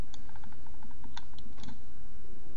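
Sharp clicks of a computer mouse on a desktop, several short taps including a quick double click, close and fairly crisp over a low steady room hum, with no talking.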